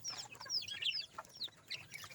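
Bantam and native chickens cluck and squawk in short, bright bursts at a backyard pen, several birds calling close by with no talking.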